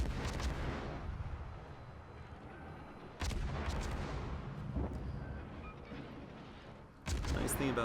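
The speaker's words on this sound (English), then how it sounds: "Nice thing about the guns on the Benson is they have very fast reload and traverse, so you can get off quite a few shots" Guns of the Benson destroyer firing in World of Warships, with sharp booming salvos cracking out over a steady rumbling ocean and engine bed, then rolling echoes between shots, no voices.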